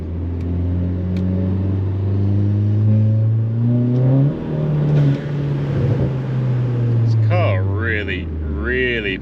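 A stage 2 Volkswagen Polo GTI pulls hard through the gears at night, its engine note rising steadily with turbo boost building from third gear, a continuous close interior drone with a brief shift dip midway.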